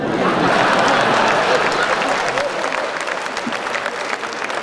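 An audience at a Hindi humorous poetry recital breaks into loud, sustained applause, dense clapping that swells early and then stays strong, with crowd murmur mixed in.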